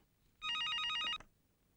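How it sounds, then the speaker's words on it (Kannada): A telephone rings in one steady electronic burst of roughly three-quarters of a second, loud and close, with nothing else around it. "ಸತ್ಯ ಫೋನ್ ಮಾಡಿದ್ದಾನೆ."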